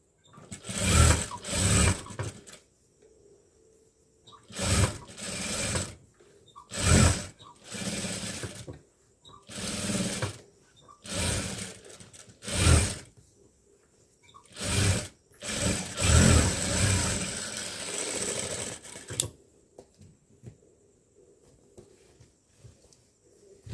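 Sewing machine stitching a garment sleeve, running in repeated short bursts of rapid mechanical whirring separated by brief pauses, with one longer continuous run near the end; close and clear, with no talking.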